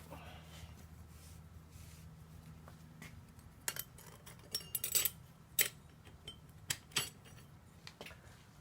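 Metal clutch plates and friction discs from a 42RE transmission overdrive clutch pack set down one by one, giving a series of light, close metallic clinks and taps spaced a second or so apart over quiet background.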